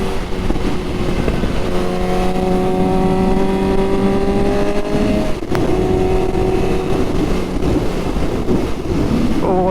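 A Suzuki GSX-S750 motorcycle fitted with a Power Commander 5 fuel map revs while riding, its engine note rising steadily through a gear then dropping and climbing again under heavy, constant wind roar.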